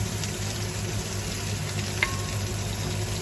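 Onion frying with seasoning in a pan, giving a steady, even sizzle throughout, close and moderately loud, with one brief clink partway through.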